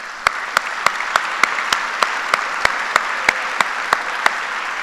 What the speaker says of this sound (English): Let's give a round of applause to all of your mentors and family who have helped you.